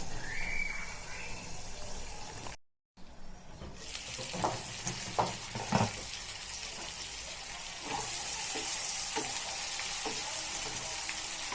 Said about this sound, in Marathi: जरावे तेलामध्ये छान परतून घेऊया